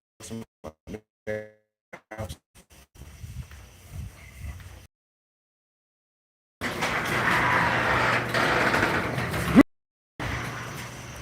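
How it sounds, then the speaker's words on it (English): A home garage door rolls shut with a loud, continuous rumbling whir lasting a few seconds, ending in a thump, after some scattered knocks and handling noises. "let me go close my garage door"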